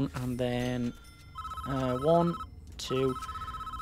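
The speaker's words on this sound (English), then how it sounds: "Okay, the phone." A telephone in the prison management game Prison Architect rings with a steady electronic tone held across most of the moment. Someone talks over it, his voice louder than the ring.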